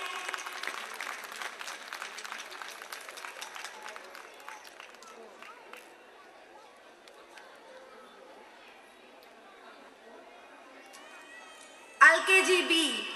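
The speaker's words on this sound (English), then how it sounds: "Audience, please clap for the students." Audience applause for young kindergarten (LKG) students at a school prize ceremony, a steady patter of many hands with chatter mixed in, fading to a quieter murmur before a sudden loud burst near the end.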